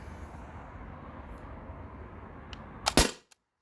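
A modified T4E HDR50 launcher fires a steel ball, giving one sharp, loud crack near the end after steady background noise, followed by a faint click.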